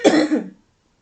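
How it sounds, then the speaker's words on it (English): A single short cough, close and fairly loud, in two quick bursts, followed by silence. "I'm just coughing. I cough all the time."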